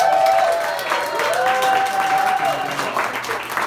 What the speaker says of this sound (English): Please put your hands together and give a warm welcome